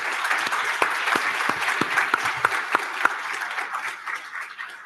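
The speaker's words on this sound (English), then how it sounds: "Let's give them a round of applause." Conference audience applause for panelists at a rural policy event: a steady crowd clapping that holds fairly even with a few sharper individual claps standing out, then tapers slightly toward the end.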